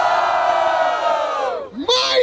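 Large crowd at a Brazilian freestyle rap battle in Barueri, São Paulo, roaring in a sustained loud shout that dips briefly and then surges again.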